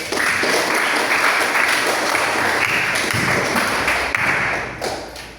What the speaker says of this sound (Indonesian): Yuk, tepuk tangan kita semua dulu.